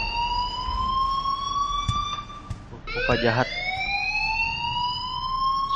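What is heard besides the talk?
alarm ringing in the video game Life Is Strange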